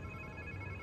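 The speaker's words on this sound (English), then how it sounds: "Sounds like somebody's phone." A faint, steady electronic phone ringtone tone from the video game Spider-Man 2, brief and quiet, heard on its own.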